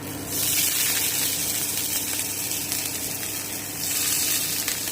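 Hilsa fish pieces drop into hot melted oil in a pan, setting off a sudden, loud, hissing sizzle that holds steady and close for several seconds with no talking.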